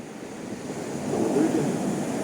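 Stormy sea surging against the Sudak embankment, a brief rush of surf building under gusty wind buffeting the microphone, with faint voices in the background.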